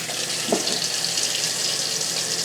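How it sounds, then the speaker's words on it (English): Tap water runs in a steady, close hiss into a Westinghouse kettle, with one brief splash partway through and no voices. "Let's boil some water for coffee."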